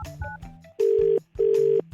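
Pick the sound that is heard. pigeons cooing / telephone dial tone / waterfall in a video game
telephone dial tone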